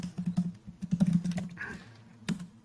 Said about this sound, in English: Just to double check, type in brew dash dash version.